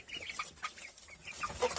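A flock of nine hens and three roosters cluck in a steady, busy stream with short squawky calls scattered throughout, fairly close and with no one talking.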